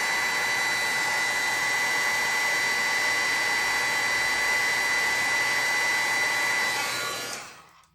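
A heat embossing tool blows a loud, steady whooshing roar of hot air close by for about seven seconds, melting embossing powder, then cuts off and winds down at the end.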